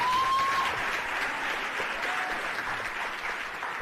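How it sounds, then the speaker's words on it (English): Audience at a live school-district leadership event applauding, a dense, sustained round of clapping from a crowd that stays loud and even throughout, with no voices over it. "I just want everybody to give her another round of applause."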